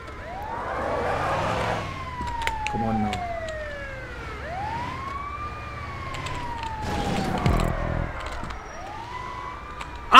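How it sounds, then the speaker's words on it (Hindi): Ambulance siren in the GTA 5 video game wails in long rising and falling sweeps for the whole stretch, loud and fairly near, with brief clattering bursts of game noise and a voice shouting under it. "वो नकली एम्बुलेंस है"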